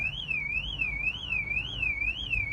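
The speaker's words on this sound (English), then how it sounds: "that alarm stopped now" A car alarm wails at a car show, a loud warbling siren sweeping up and down in a steady repeating cycle about twice a second, alone over faint outdoor background noise.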